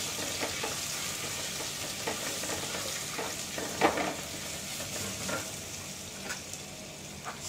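Ginger garlic paste frying in a pan on a low flame, a soft, steady sizzle with light stirring scrapes, one sharper clink midway, close but fairly quiet, no talking.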